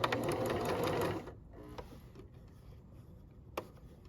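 Sewing machine stitching a curved seam, a fast close rattling run of about a second that stops, followed by quieter clicks and handling sounds.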